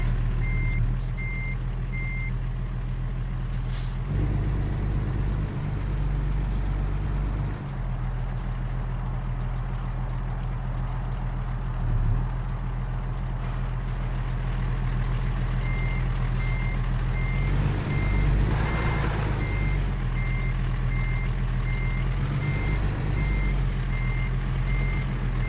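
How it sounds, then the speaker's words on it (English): A truck's reversing alarm in American Truck Simulator beeps in a steady repeating series at the start and again later, over the constant low rumble of an idling heavy truck engine. "I'm backing up over here."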